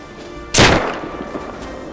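A single sharp gunshot in the game Rust, one loud, close crack that fades into a short echoing tail over faint background ambience.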